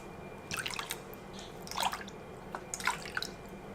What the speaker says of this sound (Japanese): こちらの骨から取った出汁を420加えます